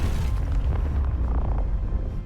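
A weapon-test explosion in Space Engineers, set for radius 4 and 4,000 damage, booms as one deep, loud blast with a sustained low rumble that fades over about two seconds.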